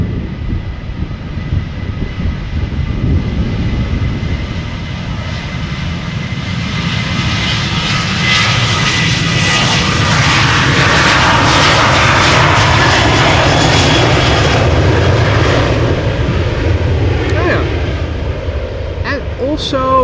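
A Moomin-liveried Airbus A350 jet takes off at Amsterdam Schiphol, its engine roar building loud and close to a peak midway, then rolling on as it climbs away; a voice talks over it now and then.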